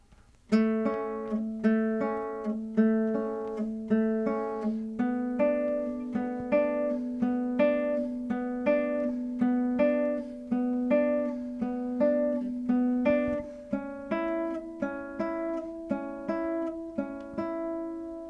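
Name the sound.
classical guitar arpeggiated accompaniment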